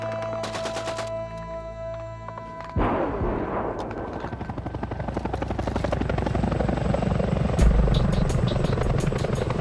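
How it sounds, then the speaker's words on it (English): Military helicopter rotors roar overhead in Kosovo, building from a distant drone to a loud, chopping thump that swells and stays heavy to the end. "It was the roar of the first helicopters overhead"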